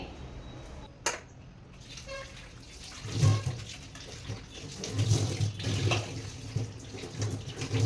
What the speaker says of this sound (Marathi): आता ह्याला मस्त ना धुवून घेणार आहे।